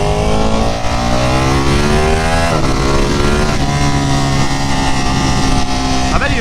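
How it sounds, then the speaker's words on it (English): Motorcycle engine roaring loud and close as the throttle is rolled on, the pitch sweeping up and down in harmonic surges over about six seconds, with a rider's voice faintly mixed in. "I bet you if I roll the throttle right now, the wheel would come up"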